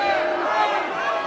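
A wrestling crowd packed into an American Legion hall cheers and shouts in a steady, loud roar of many voices throughout the short moment, with no break or lull.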